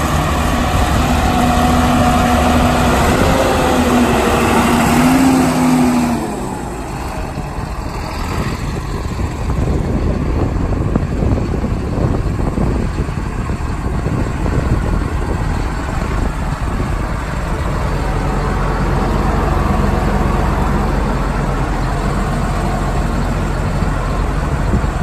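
A 2001 John Deere 8410 tractor engine runs steadily with a deep, continuous low rumble that stays loud and close for the whole stretch, without pauses or talk.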